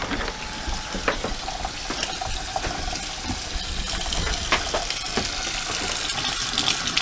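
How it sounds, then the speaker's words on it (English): Hot water gushing steadily from a tap fed by a tankless water heater, a loud, continuous splashing hiss with small spatters throughout and no talking. "Nice hot water there for a tankless water heater."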